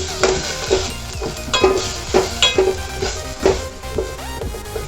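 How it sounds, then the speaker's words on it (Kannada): Ridge gourd cooking in a pan for chutney, with a steady sizzle broken by regular scraping and clinking stirring strokes close by, and no talking. "ಮತ್ತು ಇದಕ್ಕೆ ಹೀರೆಕಾಯಿ ಹಾಕಿ ಇದು ಚೆನ್ನಾಗಿ ಬೇಯಬೇಕು"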